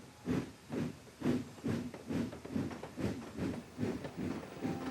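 A steam engine from Thomas and Friends wheeshes away, its rhythmic puffing chuffs of steam repeating steadily about twice a second, close and moderately loud, with no voices over it.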